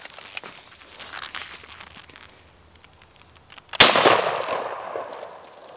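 A single sharp, loud shot from an Ishapore 2A rifle cracks out against water jugs after a stretch of quiet handling noises, followed by a decaying echo.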